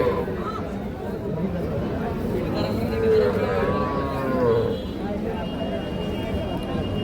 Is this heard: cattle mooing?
yes